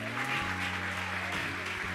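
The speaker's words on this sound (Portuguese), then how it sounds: "Aplauda o Senhor." Applause from a church congregation during an evening sermon, dense and steady over sustained organ or keyboard chords, with no speech.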